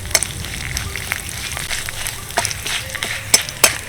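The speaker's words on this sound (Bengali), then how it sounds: "তেলের মধ্যে ফোড়ন হিসাবে দিয়ে দিচ্ছি এই যে 3 টুকরো তেজপাতা, 2টো শুকনো লঙ্কা, আর দিয়ে দিচ্ছি 1 চামচ 5 ফোড়ন" Three bay leaves, two dried chilies and a spoonful of panch phoron frying in oil for mango pickle, crackling sizzle with frequent sharp pops and spatula scrapes, close and lively, no talking.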